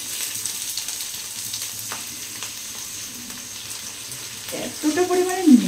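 Rice tipped into hot ghee for nolen gur payesh gives a low, steady sizzle with light stirring scrapes, and a voice speaks briefly near the end.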